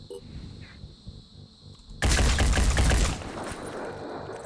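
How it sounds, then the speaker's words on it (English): Weapon fire in the video game Phoenix Point, a sudden loud burst of gunfire that starts abruptly after quiet ambience, rattles for about a second, then leaves a lingering rumble. "we're just going to fire a weapon at them this time"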